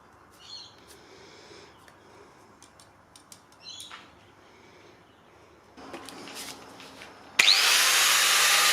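A taped Ford Fairlane engine dipstick is cut through in a restoration workshop: soft handling clicks and faint scraping come first, then a loud, harsh, continuous cutting noise bursts in near the end.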